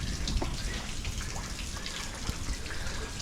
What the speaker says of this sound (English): they've been saying it's going to rain for the last day or two. Finally, it came.